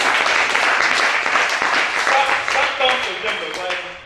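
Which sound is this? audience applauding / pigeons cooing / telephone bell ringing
audience applauding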